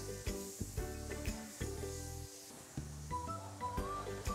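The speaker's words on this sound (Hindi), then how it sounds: "जब तक ये भुना ना जाए तो आपने इसको चम्मच को चलाते रहना" Spoon stirring grated carrot halwa as it roasts in a pan, with repeated scraping strokes and soft sizzling, close and fairly quiet.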